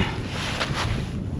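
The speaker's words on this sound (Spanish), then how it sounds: "Está haciendo un poco ventoso aquí." Wind blows steadily outdoors, a broad rushing hiss with a couple of slightly stronger gusts.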